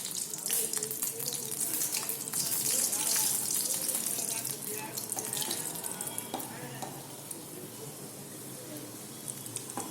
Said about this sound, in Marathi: आता आपण लसूण तळून घेऊ।